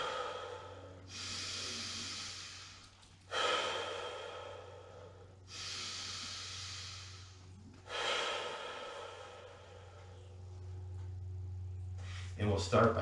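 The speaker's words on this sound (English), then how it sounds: "Take three deep breaths." Several slow, deep breaths during a beginner Kundalini yoga exercise, each a long hissing inhale or exhale with short pauses between, close to the microphone over a low steady hum.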